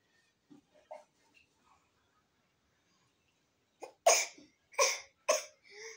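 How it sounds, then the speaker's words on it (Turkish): A person coughs four or five times in a loud, close burst, spaced about half a second apart, after several seconds of near silence with a few faint small sounds. "Ay, öksürdün mü annem?"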